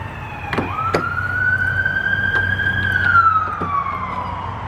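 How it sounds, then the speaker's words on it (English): An ambulance siren wails as it passes, a rising then falling tone over steady road and traffic noise, loud and fairly near, with a few short clicks or taps. "Ambulance early this morning."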